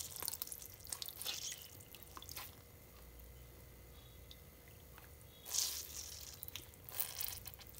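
Water squeezed by hand out of soaked vada for kanji vada drips and splashes in quiet, faint bursts of wet trickling and squishing, with no talk.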